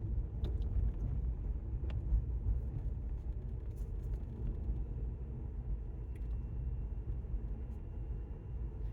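A Chevy Bolt electric car climbing a mountain road toward Ski Apache, heard from inside as a steady low road and tire rumble with faint occasional clicks, continuous and even throughout.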